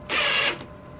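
A power driver spins a screw into a playhouse platform in one short, close burst of whirring rattle lasting about half a second, then quiet.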